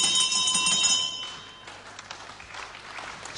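A ringing bell marks the end of round 5 in a wrestling bout between Alan Kilby and Chris Adams; its sustained tone decays over about a second and a half above a murmuring crowd.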